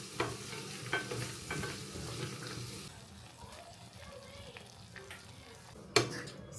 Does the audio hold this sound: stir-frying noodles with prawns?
yes